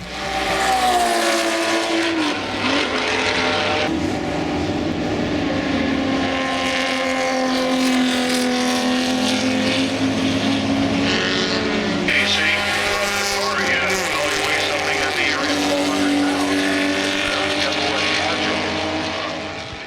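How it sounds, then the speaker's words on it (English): Ferrari 250 GTO with its V12 running full throttle on a track, a loud, rising and falling engine howl with shifting pitch sweeping past, a voice talking over it. "a Ferrari 250 GTO racing full throttle around the track"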